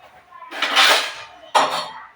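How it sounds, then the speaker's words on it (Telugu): Dishes being washed, with pots and metal vessels clinking and clattering in two short bursts, close and fairly loud, separated by a brief pause. "ఇల్లు తుడిసిన తర్వాత అయితే ఆ గిన్నెలు క్లీన్ చేసుకుంటున్నాను."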